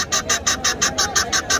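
Guinea fowl calling at a poultry market, a rapid run of about nine evenly spaced harsh, grating cries, loud and close, with no talk.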